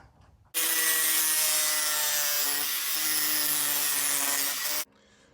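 Hand sawing through a metal tab piece cut for a cowl panel airbox on a NASCAR Winston Cup Buick Regal, a loud steady rasping stroke that runs about four seconds and then stops, with no talk.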